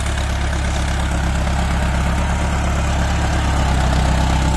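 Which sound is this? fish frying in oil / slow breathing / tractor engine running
tractor engine running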